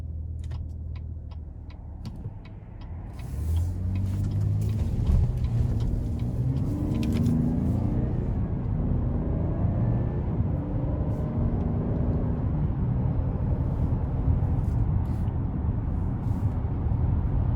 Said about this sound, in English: So far, the Enclave is very responsive as I pull out of the parking lot of the dealership.